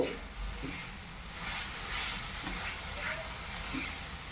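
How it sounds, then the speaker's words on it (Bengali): Grated coconut and milk powder filling is stirred in a pan over heat, giving a continuous soft hiss and sizzle with faint scraping strokes, close and steady. "নারকেলের সাথে গুঁড়া দুধটাকে ভালো করে মিশিয়ে নেড়ে চেড়ে নিচ্ছি।"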